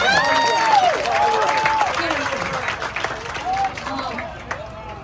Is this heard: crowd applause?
yes